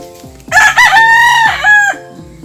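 A rooster crows once, loud and close, a long strained call rising and then trailing off, with a few soft clucks around it.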